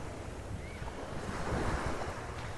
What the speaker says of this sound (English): The waves, as the tide comes in, the waves will get bigger here.